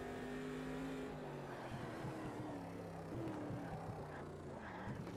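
A Corvette C3 engine in the Automobilista 2 racing video game drones and revs steadily, its pitch rising and falling with gear changes, loud and continuous with no talk.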